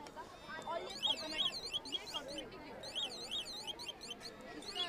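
An electronic intruder alarm exhibit at a school science fair wails in a repeating rising-and-falling siren pattern, fairly faint, with people chattering in the background.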